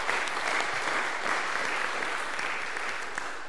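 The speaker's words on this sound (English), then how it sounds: "So big round of applause." A church congregation claps warmly for couples' anniversaries, a dense sustained round of applause from a full room that holds steady for several seconds before tapering slightly.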